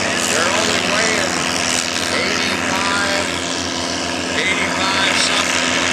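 A light tractor competing at a tractor pull exhibition runs with a loud, steady, close engine drone that barely changes, while people talk over it.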